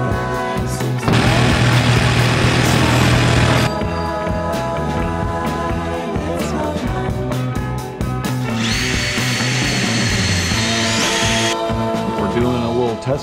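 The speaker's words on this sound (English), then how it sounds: "I'm just about to cut, and I'm just putting a little WD-40 on the blade." Power saw cutting a plate aboard a 40-year-old boat, its blade lubricated with WD-40, two loud bursts of high-pitched cutting whine separated by a pause of mechanical clatter, heard close by.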